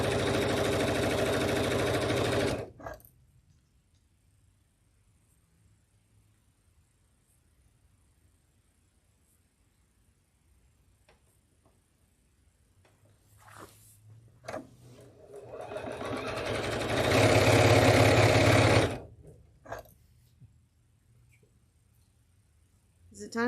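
A sewing machine whirs loudly as it stitches in bursts, starting and stopping with long quiet gaps and a few clicks between runs.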